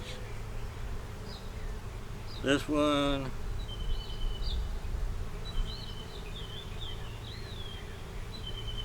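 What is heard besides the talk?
honey bees buzzing at the hive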